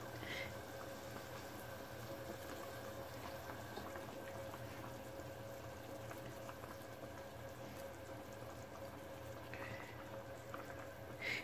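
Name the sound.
minced meat balls simmering in sauce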